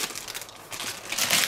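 A plastic packet holding a SIKU toy car is torn open, a brief burst of close crinkling and ripping plastic.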